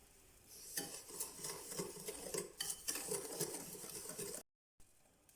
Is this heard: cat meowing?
no